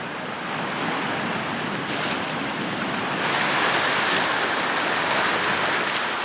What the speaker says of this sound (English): No man would dare to surf these waves.